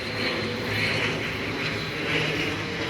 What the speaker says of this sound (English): fucking plane going by